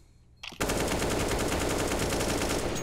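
Sustained automatic gunfire spray in Counter-Strike on the Mirage map, starting after a brief quiet lead-in and then continuing loud and dense without pause.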